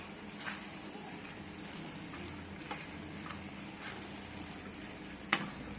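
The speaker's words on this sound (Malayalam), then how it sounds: "നല്ല ഇളക്കി അങ്ങോട്ട് കൂട്ടാണ്ട" Boti roast fries in a pan with a steady, fairly quiet sizzle, and a few faint scrapes of stirring come through the hiss, including one sharper clack near the end.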